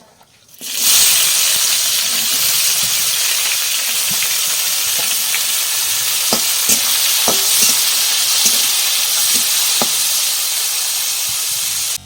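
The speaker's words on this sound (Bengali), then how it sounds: "জিরাগুলো পুড়ে গেছে তখন পেঁয়াজটা ছেড়ে দেবো" Onion is tipped into hot oil with cumin and bay leaves and fries with a loud, steady sizzle and hiss. Occasional stirring clinks and pops are heard, with no speech.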